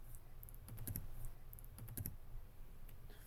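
Sharp little clicks come up close and quiet as a computer mouse is used in Adobe After Effects, a few spaced taps over low background hiss, with nobody talking.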